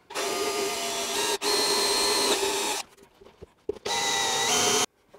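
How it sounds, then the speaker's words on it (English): Power drill boring a starting hole into wood for a lathe drum sander jig, running in two long loud bursts with a short pause and scattered clunks between them. "get the drill."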